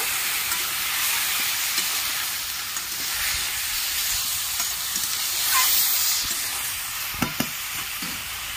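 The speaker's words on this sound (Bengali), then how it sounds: "ভালো করে নেড়ে নেব।" Kochu shak (taro leaves) fry in a pan and are stirred, giving a loud continuous sizzle and hiss with occasional scraping stir sounds. A couple of sharp utensil knocks come near the end, with no talking.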